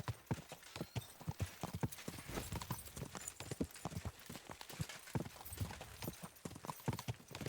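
Horse hooves clip-clop in a rapid, steady gallop in Kingdom Come Deliverance II, a dense run of hoofbeats kept fairly faint throughout.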